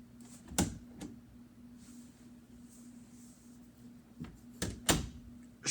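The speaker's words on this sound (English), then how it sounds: "Shut the door." An indoor door is pushed shut with a couple of sharp, loud thuds and knocks, each standing out briefly against a quiet room with a low steady hum.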